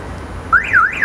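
Perodua Axia keyless entry alarm on shutting off the remote start: a loud, close, rising-and-falling warbling siren tone that starts abruptly and sweeps up and down twice over a low background hum.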